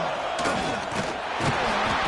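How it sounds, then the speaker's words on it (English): A football stadium crowd roars during a third-down play in an SEC game involving Georgia, a steady, dense wall of cheering and yelling that swells slightly near the end. "This dog crowd is off the leash, and they are coming after them, bringing noise on 3rd down."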